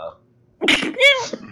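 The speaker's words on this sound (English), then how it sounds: "You're sneezing." A single close sneeze bursts out after a short silence, with a brief voiced squeak trailing into it.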